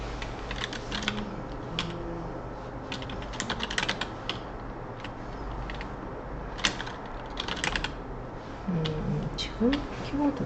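Steady typing on a computer keyboard, a run of quick clicky keystrokes close by, with faint background murmur and a few louder clacks near the end.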